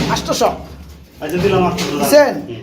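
Pigeons coo at a pigeon market where birds are sold, the soft throaty calls rising close by between stretches of someone talking.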